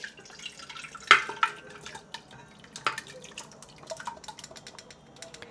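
Water splashes and drips into a large cooking pot holding korma, with irregular sloshing and a few louder splashes close by.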